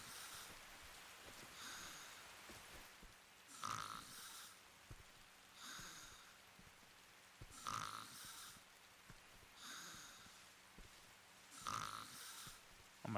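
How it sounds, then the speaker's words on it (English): A sleeping video game character snores in slow, regular cycles, one rasping breath roughly every two seconds over a steady hiss of background noise, moderately loud and with no voices. "his snoring is rumbling my controller"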